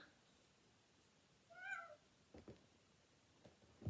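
A cat gives a single close meow midway through, followed by a few soft knocks and rustles in an otherwise quiet room.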